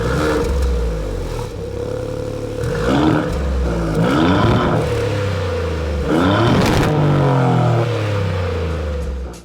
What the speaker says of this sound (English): I will just let you have a listen at the V6 engine.